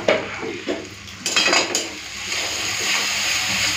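Chili powder, turmeric and other spices are worked in a little oil in a pan for tengra fish curry, with a spatula clinking and scraping against the pan, several sharper knocks, and a soft sizzle underneath.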